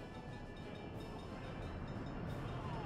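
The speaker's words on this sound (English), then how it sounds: "this train should be stopped right now. Because it has nothing but open track in front of it." In the Workers & Resources: Soviet Republic game, a train runs along the track as a steady, dense rumbling roar with no breaks.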